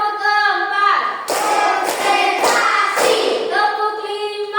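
Students in a classroom clap out a patterned rhythm, several crisp group claps spaced across the middle, with a teacher speaking around them.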